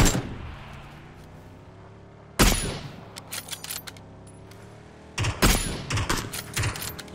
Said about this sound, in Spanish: te van a disparar de la derecha